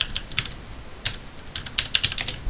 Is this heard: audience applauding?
no